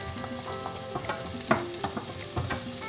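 Ham and chorizo fry with golden browned onion in a pan, giving a soft, continuous sizzle broken by irregular light clicks and scrapes of stirring.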